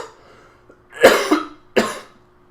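A man coughs twice in sharp, loud bursts, the first a quick double hack and the second a single harsh cough, indoors with no talking.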